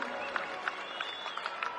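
Audience applause at the National Games closing ceremony in Uttarakhand, a brief, steady wash of many hands clapping in a large crowd, with scattered sharper claps over the dense roar.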